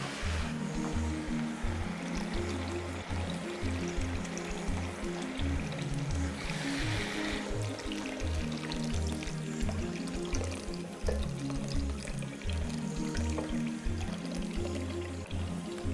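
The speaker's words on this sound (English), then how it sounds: "Okay, and now we're adding a liter milk." A liter of milk is poured into a pan while making creamed chicken, mushroom and spinach pasta, giving a steady, continuous rushing pour that runs loud and unbroken throughout, with no talk over it.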